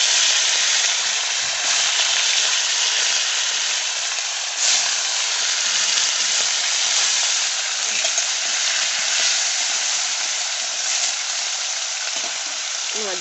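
Fish frying in hot oil in a pan with dried red chillies gives a loud, steady, even sizzle that runs without a break throughout.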